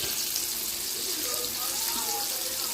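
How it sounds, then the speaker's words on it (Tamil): Coated KFC-style chicken deep-frying in oil over a low flame, giving a steady, moderately loud hiss and crackle of bubbling oil that runs without a break. "பாருங்கள், நம்மளோட சிக்கன் நல்லா பொரிஞ்சிட்ருக்கு."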